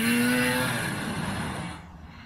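A vintage TX snowmobile riding past on a trail at a sled meet, its engine a loud steady whine and roar close by that fades toward the end.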